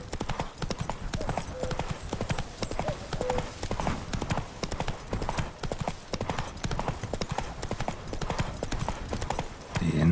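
Roach, Geralt's horse in The Witcher 3, galloping with rapid, driving hoofbeats that pound continuously and loudly for about ten seconds, mixed with rustling movement.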